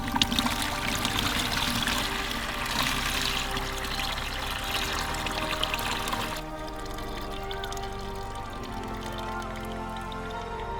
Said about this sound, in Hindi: तो पानी को अपन छान लेते हैं ताकि जो बाकी की चीज़ें हैं वो वैसी की वैसी रह जाए।